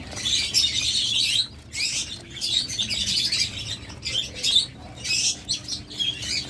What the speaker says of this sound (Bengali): কোয়েল পাখিগুলো এরপর এখানে আছে